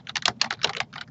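Quick, light keystrokes on a computer keyboard, about a dozen clicks in a fast, uneven run, close and clear, as a file name is typed.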